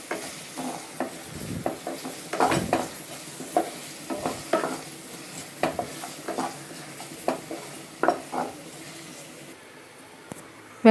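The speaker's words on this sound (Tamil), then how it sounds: "வெங்காயம் வதங்கிடுச்சு." Onions sizzle in a pan while a spoon stirs them for fish vadai, steady frying hiss broken by repeated scraping and clinking strokes against the metal, close and without talk.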